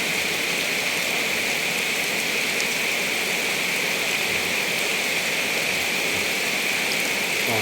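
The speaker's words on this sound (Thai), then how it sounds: "ฝนตกอยู่ครับ" Steady rain falls continuously as a dense, loud hiss with no breaks, a constant even wash of drops on surfaces and no voices.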